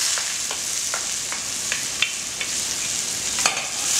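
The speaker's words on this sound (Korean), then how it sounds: "야채를 넣으시고 볶아주시면 됩니다." Vegetables stir-fried in a pan for a Chinese dish of braised sea cucumbers, giving a steady close sizzle with soft scraping stir strokes throughout and no talking.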